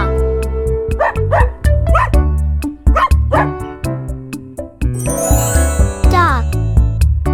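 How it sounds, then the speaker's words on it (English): A dog barks repeatedly in loud, close, rhythmic bow-wows over light background music with tinkling chimes. "This is dog."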